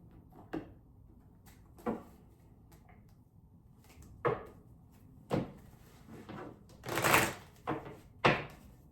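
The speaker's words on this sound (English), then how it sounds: "Nice shuffles." A deck of tarot cards shuffled by hand up close, heard as a series of short, crisp papery riffles and taps at irregular intervals, with a longer flurry near the end and no talking.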